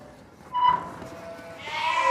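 Sheep bleat inside a farm shed as they are herded toward a doorway, a couple of nearby bleats rising over low background noise and faint voices.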